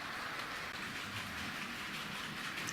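Model train wagons clatter along a layout track in a steady, continuous rattling stream of close rail-joint clicks and rolling noise, heard alone at a fairly even level.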